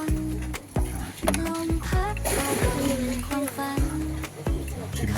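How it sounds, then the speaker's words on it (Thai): Sea waves splash and wash nearby on a beach in Rayong, Thailand, while people talk over the water. "ได้ยินเสียงคลื่น"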